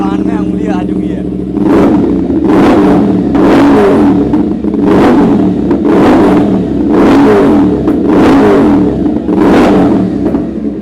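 Loud, close revving from a superbike fitted with a full-system exhaust, dB killer out: six or so evenly spaced throttle blips rising over a rumbling idle, with people talking faintly in the background.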